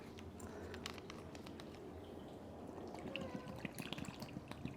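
A gingerbread martini is poured from a shaker into a glass, producing light splashing and dripping trickles over faint room noise, and the pour grows a little busier toward the end.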